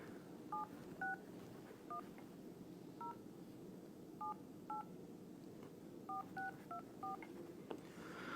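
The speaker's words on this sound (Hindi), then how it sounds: "ये नंबर डायल कर रहे हैं हम लोग" Touch-tone keypad beeps as a phone number is dialed, a dozen short paired tones in uneven bursts over a steady low background hum.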